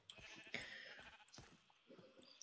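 Sheep bleating in the video game Sheep Quest: a few short, nasal bleats over steady game background noise, with one clear bleat near the start and a quieter one midway.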